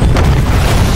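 A cluster grenade exploding in the video game Call of Duty Black Ops 4, a loud, dense, continuous roar of blasts filling the whole moment without pause, heavy and booming.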